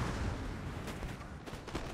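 Musket gunfire in a Napoleon: Total War battle, a dense, continuous crackle of volleys with scattered sharper shots over about two seconds.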